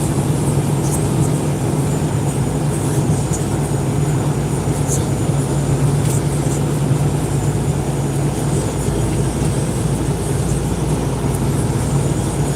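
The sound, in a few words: train passing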